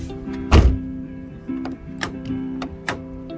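A car door with a seized latch on a Nissan 240SX is pushed shut several times, each attempt a sharp clunk that fails to latch, over a faint steady hum.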